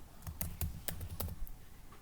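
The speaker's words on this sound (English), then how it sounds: "So suppose here I am typing string s1 is equal to hello" Keys clack on a computer keyboard nearby, a quick uneven run of crisp taps with short pauses between them.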